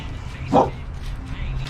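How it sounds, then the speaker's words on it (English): A single short, sharp dog bark, close and fairly loud, over faint background noise. "What are you barking about?"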